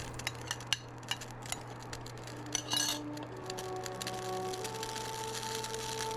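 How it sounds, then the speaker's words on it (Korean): Leftover sauce scraped out of a bowl with a utensil produces a series of sharp clinks and scrapes, close and fairly quiet, over a steady low kitchen hum. "아까우니까 남은 양념도 싹 다 긁어주기"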